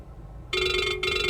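A phone rings with an incoming spam call, a bright electronic ringtone starting abruptly after a quiet moment, with a brief break before it continues, loud and close.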